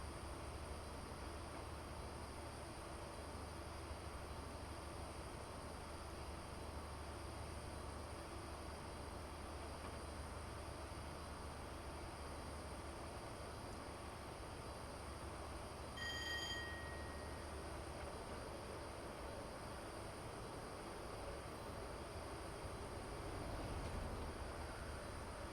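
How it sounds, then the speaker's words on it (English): A Freightliner class 66 freight locomotive hauls tank wagons past at a distance, a faint, steady low rumble and rolling drone lasting the whole time with no speech. "sure why a Freightliner 66 was hauling those tanks"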